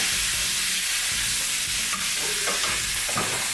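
Chili for a spicy chili bacon breakfast cheeseburger fries in hot oil in a pan, giving a steady, close, bright sizzle with occasional spatters and stirring scrapes throughout.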